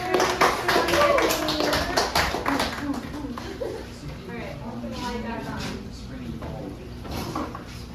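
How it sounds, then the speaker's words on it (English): A classroom group clapping briefly, sparse uneven claps close by that quickly thin out as people start talking over them. "everyone give a round of applause"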